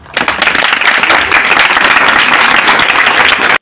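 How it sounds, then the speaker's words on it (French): A crowd at a school results ceremony for a deaf pupils' school gives loud, dense, sustained applause for a top pupil, the clapping starting abruptly and cutting off just as suddenly. "Si on peut acclamer pour cet enfant"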